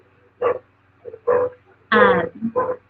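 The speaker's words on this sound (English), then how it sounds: "Sorry if you hear my dogs barking." Dogs bark in short bursts, four or five sharp woofs spaced irregularly, close by, with a brief whimper between them and quiet gaps.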